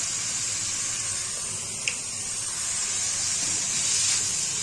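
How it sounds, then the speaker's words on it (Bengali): Turmeric and chili powder dropped into a pan of frying prawns, a steady close sizzling hiss of hot oil running throughout with a faint brief tick partway through. "এবার আমি এর মধ্যে দিয়ে দেবো হলুদ গুঁড়ো আর দেবো সামান্য লঙ্কার গুঁড়ো।"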